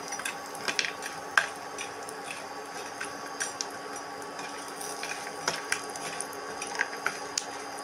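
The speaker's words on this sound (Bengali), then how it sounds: "এবার বড়িগুলো মা ভেজে নিচ্ছে।" Bori, lentil dumplings, frying in a pan at home, giving a steady soft crackle with scattered small pops and ticks throughout, fairly quiet and with no talking.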